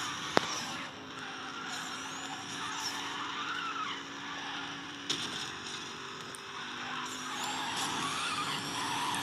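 A car skidding in the racing game Need for Speed No Limits, a sustained tire screech over a steady engine roar, with a couple of sharp knocks and no talk.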